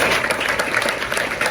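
An audience at a conference-debate in Milot claps steadily, a brisk, even patter of many hands that fills the room from start to finish.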